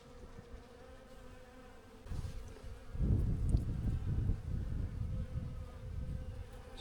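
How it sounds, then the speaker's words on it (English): Dense buzzing of many bees, like a beehive, along a hiking path on Santorini, faint at first and then swelling louder and closer, a continuous droning hum with no talk. "It's like I'm walking through a hive, a beehive."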